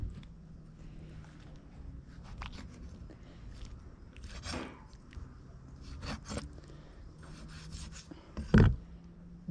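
Knife scraping sand from a mullet gizzard, with close rasping strokes in uneven bursts and a sharp scrape near the end, against low background noise.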